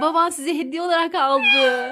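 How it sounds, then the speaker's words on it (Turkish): A stray kitten found abandoned at a door, meowing loudly several times in quick succession, close by, while a person speaks over it. "Anneciğim kedi."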